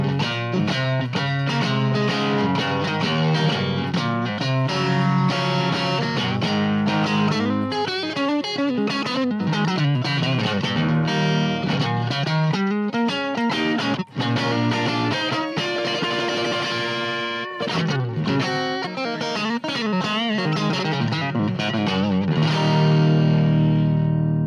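A distorted electric guitar played through a vintage Fender tube amp plays a continuous riff, thick and saturated with some chorus and reverb, loud and up close with no voices.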